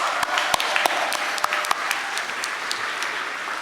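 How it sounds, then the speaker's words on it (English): A gala and awards audience breaks into loud, sustained applause, a dense wash of many hands clapping with a few sharper individual claps standing out, gradually easing over a few seconds. "give another round of applause for the spirituals"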